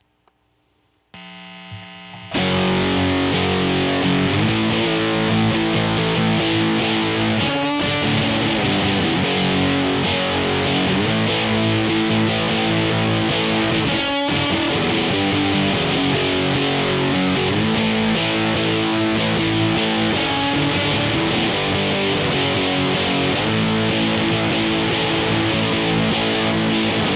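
A thick, heavily distorted electric guitar drone through fuzz and reverb pedals in stereo, with a washy, reverberant tail, plays loud and continuous for nearly half a minute after a brief quiet start.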